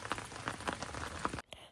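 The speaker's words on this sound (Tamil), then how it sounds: "மழை, செமையான மழை." Heavy rain falling in Germany's Black Forest region, heard as a dense patter of drops striking a surface close by, faint and steady, cutting off abruptly near the end.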